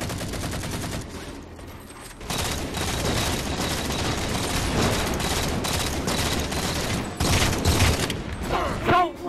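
Dense, rapid gunfire fills a Halo 4 match, near and loud automatic bursts running almost nonstop with a short lull early on, and a voice briefly heard toward the end.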